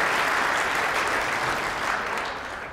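Spectators at a Scottish International Open bowls semi-final applaud a drawn shot with steady, dense clapping from a sizeable crowd, holding strong before easing slightly at the end.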